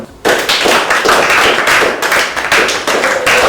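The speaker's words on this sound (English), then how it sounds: "I want you all to clap for Ngozi and Sonia" A classroom of students claps together for two pupils, a dense burst of many hands striking at once, loud and close, sustained steadily for about three seconds after a brief quiet start.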